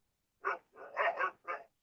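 A dog, a female, gives four quick barks close by, one short bark then a pair run together and a final one, in an otherwise quiet setting.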